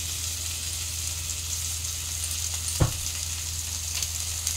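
Green chili paste goes into potato and papaya frying in a pan, a constant close sizzle with a low hum and one sharp clatter midway, no voices.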